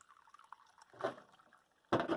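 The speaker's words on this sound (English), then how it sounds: "we have a nice ceramic bowl, which we're going to fill with warm water" Warm water poured into a ceramic bowl in two short bursts of splashing and trickling, separated by a quiet pause with faint drips, heard close and fairly quiet without speech.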